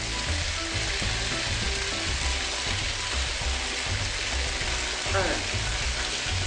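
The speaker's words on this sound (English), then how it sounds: "I hope you can hear me over the sizzling." Crumbled food frying in a pan in a home cooking class, with a loud, continuous sizzle and occasional stirring scrapes.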